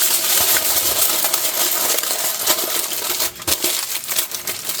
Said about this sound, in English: It's taking aluminum foil. It's going to be noisy.